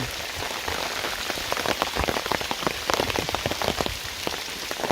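Steady rain patters on surfaces at a misty mountain summit, a dense, continuous hiss with scattered sharper drops, close and moderately loud with no voices.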